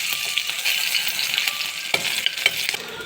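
Garlic dropped into hot oil with mustard seeds for a South Indian brinjal gravy gives a steady bright hiss, with sharp crackles and pops breaking through near the end.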